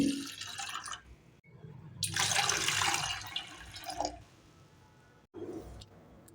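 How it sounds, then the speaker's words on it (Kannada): About two cups of water pour into a pot holding a cup of curd to make buttermilk for jowar-flour ambli, a steady splashing rush that swells in the middle, then short drips and trickles follow. "ಎರಡು ಕಪ್ ಆಗೋಷ್ಟು ನೀರು ಇದ್ದೀನಿ"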